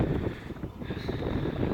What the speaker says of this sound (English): A little bit windy out here, but it's actually getting cold.